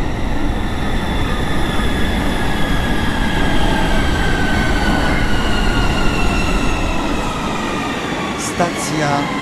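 A Warsaw Metro M2 line train in a Roblox game runs steadily with a loud, continuous rumble and rising whine of motors and wheels, and a voice announcement plays over it.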